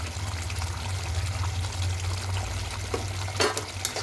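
Ghee poured into a pan of cooked potato curry (aloo dum) near the end of cooking, a close, continuous pouring trickle over a low sizzle, with a few soft clinks toward the end and no one speaking.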